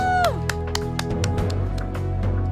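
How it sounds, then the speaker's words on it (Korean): Applause for Narsha rises from the studio audience on the Korean competition variety show Let's Go Dream Team Season 2, ending an endurance challenge: scattered, uneven claps ring over a steady musical tone bed. "나르샤에게 박수를 보냅니다."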